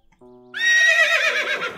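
A Minecraft horse neighs loudly up close, a bright whinny that rises and wavers for over a second after a short low tone.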